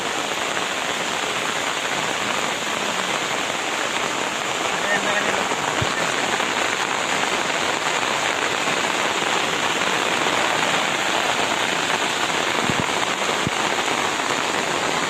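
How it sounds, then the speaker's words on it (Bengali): A downpour roars steadily and close, a thick unbroken wash of rain with a few faint knocks beneath it. "মুসলধারে বৃষ্টি রে ভিডিও থামাইতে বাধ্য হচ্ছে"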